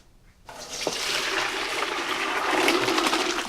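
Cooking water from boiled potatoes pours off into a drain in one steady, close rushing splash that starts abruptly and continues strongly to the end, with no talk.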